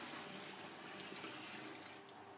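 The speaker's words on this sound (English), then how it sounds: "It's asking for 7 litres of water. 7 litres. So we'll pour it carefully into the tank here" Water pours from a bucket into a beer-brewing machine's tank, a steady, faint stream of splashing liquid with no voices over it.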